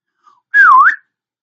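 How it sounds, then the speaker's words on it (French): A single short whistle, clear and close, dipping slightly in pitch before rising again, with silence on either side. "Donc je vais enregistrer le sifflet et puis on va l'écouter par la suite."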